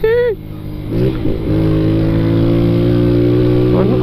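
A motorcycle with a Fan-style build and aftermarket exhaust holds a loud, close, steady revving drone with rising pitch bursts near the start and end, no talk over it.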